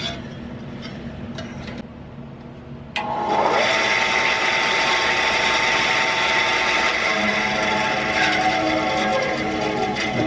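A band saw runs steadily with its covers open after a drive belt replacement, a continuous mechanical whir and hum that jumps louder a few seconds in and holds close and even to the end.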